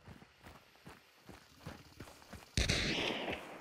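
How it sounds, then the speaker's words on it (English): Rhythmic footsteps in the video game Hunt: Showdown, then a single loud gunshot about two-thirds through that rings out with a long decaying tail. "I'm just returning fire"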